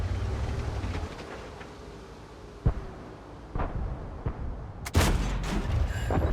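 A Panzer IV Ausf. H tank gun in World of Tanks fires in sharp, separate booms, several shots spaced over a few seconds with a louder blast near the end, over low rumbling background noise.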